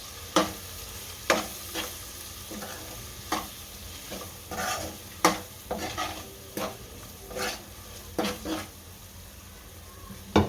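A spoon stirs Kashmiri red chili powder and salt into hot cooking oil for a Gujarati chora (black-eyed bean) curry, with regular scraping strokes against the pan over a soft, steady sizzle.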